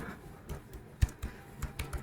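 Fast typing on a keyboard while messages are sent during a prank on friends, with clustered key clicks and a few sharper, louder strikes spread over two seconds at close range, no talking.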